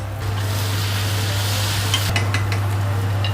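Butter melting with onion in a hot pan, a steady soft sizzle joined near the end by a few light clinks and scrapes of stirring, close and without talk.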